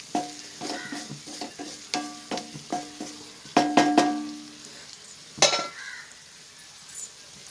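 Onions sautéing in a little oil over a low flame for a prawn roast, with a spoon scraping and clinking against the pan in a series of short, irregular strokes over a soft sizzle.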